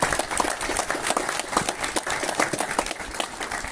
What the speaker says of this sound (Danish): I må gerne klappe.